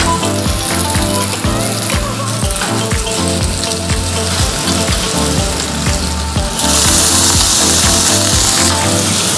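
Salted and peppered fish fillet sizzles loudly in a hot frying pan, a dense, steady crackle and hiss that holds throughout and grows a little louder toward the end, with no voices.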